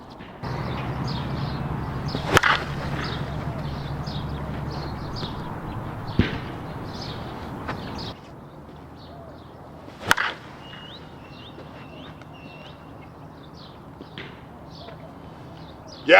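Crisp, sharp cracks of a 2024 Proton Legacy inverse USSSA slowpitch softball bat striking balls, several separate loud hits spaced seconds apart over steady outdoor background noise.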